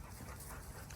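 A Springer Spaniel pants steadily and close by, a quick breathy rhythm that runs without a break through the whole second.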